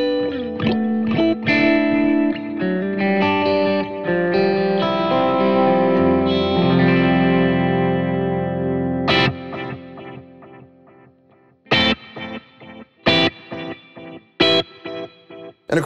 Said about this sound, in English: it just sounds great as a dotted eighth delay